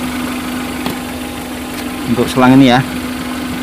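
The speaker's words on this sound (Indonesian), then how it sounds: "Oke, biarkan mesin berputar dengan langsam." Suzuki Carry Futura 1.5 injection engine idling during a tune-up, a steady low hum with a constant tone throughout, while someone speaks briefly over it.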